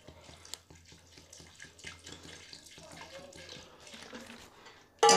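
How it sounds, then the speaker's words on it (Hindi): Water splashes and trickles into a pot in uneven spurts, close by, ending with a brief louder rush. "आधा किलो पानी डाल लेंगे।"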